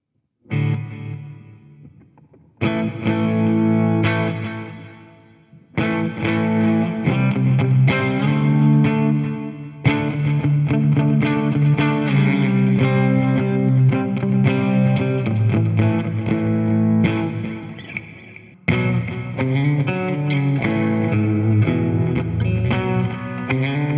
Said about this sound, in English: Let's check out some kind of distortion here, or a little bit of crunch.